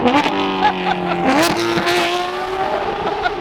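Lizard green Porsche GT3 RS with an aftermarket exhaust, loud and close, its high-revving engine note climbing and dropping in sharp rising tones through gear changes, a raw racing wail.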